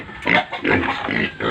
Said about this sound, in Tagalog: Biik.